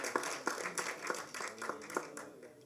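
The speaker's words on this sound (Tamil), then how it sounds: "அதுக்காக ஒரு தடவை கைதட்டு" An audience at a film press meet for the Tamil movie Pasanga claps in a brief, fairly faint burst of about eight evenly spaced claps, heard from some distance with no one talking over it.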